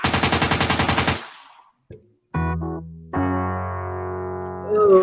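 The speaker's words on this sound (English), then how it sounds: "The sound of gunfire erupts." A burst of rapid gunfire in a dramatic scene, a fast loud rattle of shots for about a second before cutting to quiet and then sustained electronic tones.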